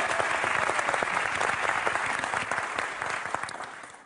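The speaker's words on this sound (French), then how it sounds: "On peut applaudir." A studio audience at a French TV game show breaks into steady, dense applause that runs without pause and slowly tails off at the end.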